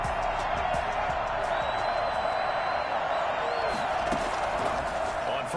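A football stadium crowd at a Chargers vs Bears game roars and cheers after a big play, a dense, sustained wall of noise with whistles and shouts rising through it.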